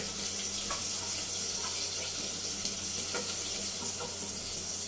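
Garlic and onion hit a hot pan for chicken liver adobo, giving a steady, close sizzle and hiss with a few faint clinks of utensils throughout.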